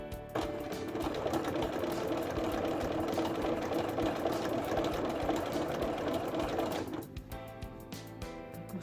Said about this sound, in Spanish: Estoy cosiendo.